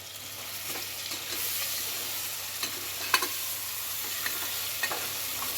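Chicken fries in oil for chicken pulao, a steady close sizzle broken by a few sharp scraping stirs of the pan, with no talk.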